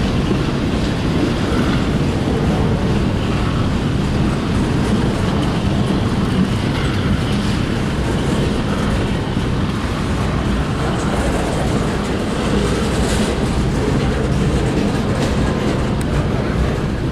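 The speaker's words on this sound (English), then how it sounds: "We had another westbound, but this one is an intermodal as well." Westbound intermodal freight train rolls past at Chesterton, Indiana, a steady loud rumble with continuous clickety-clack of wheels on rail joints throughout, close and unbroken, with no talking.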